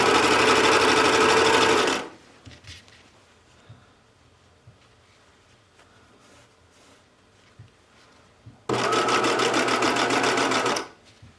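A sewing machine stitches binding onto a coat in two loud, steady bursts of rapid mechanical whirring, separated by a quiet pause with faint handling clicks.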